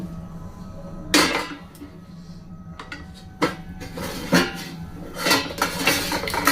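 A metal utensil clinking against a pan while stuffed idli are lifted out, with four or five distinct clanks spread over several seconds and softer scraping in between, close and clear with no talking.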